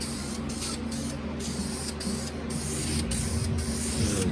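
Spray can of primer hissing steadily in a continuous blast on the quarter window of a 1990 Mustang GT, close and even with a few brief breaks, no talk.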